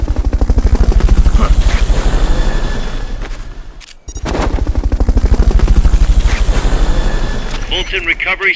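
A video game helicopter for Fulton Recovery thumps with loud, rapid rotor beats close by. A brief dropout cuts the sound near the middle, and the chopping resumes with warbling electronic tones at the end.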